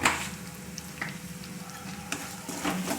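Turmeric and pepper powder with garam masala sautéed in a pan for prawn biryani, a soft steady sizzle with occasional scraping stirs of a spoon, close and fairly quiet.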